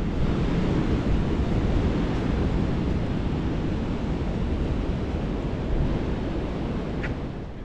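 Pacific Ocean surf rolls onto the sand at Imperial Beach in San Diego, heard as a steady, dense wash of breaking waves mixed with wind rush, continuous and fairly loud throughout with no voices.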